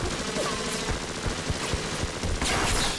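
Enemy machine gun fire in Bioshock, a dense rattle of rapid shots with scattered impacts, loud and continuous across the moment with no talking.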